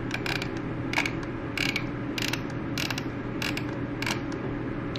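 The dial of a cheap reusable 35mm film camera is turned by hand, giving a close series of crisp ratchet clicks in small irregular clusters over a quiet background.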